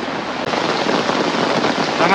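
Heavy rain falls steadily over a village in Indonesia, a dense, constant hiss that fills the whole clip, close and loud, with a brief dip near the start and no clear talking.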